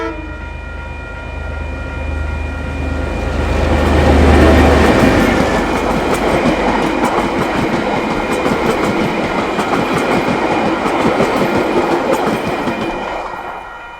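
New Zealand DC-class diesel locomotive DC4818 rumbles past steadily in Riccarton, Christchurch, its engine loud and close, with wheels clattering on the rails for the full stretch before slowly fading.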